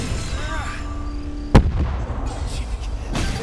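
A primed bomb goes off on the race track in the Cars 3 video game, one sharp, loud blast in the middle of the clip among game sounds and voices.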